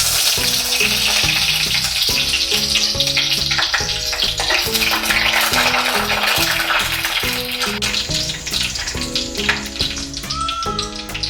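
Fenugreek seeds and curry leaves crackle and sizzle in hot oil for a garlic kuzhambu, a continuous close hiss with popping and a few utensil clinks.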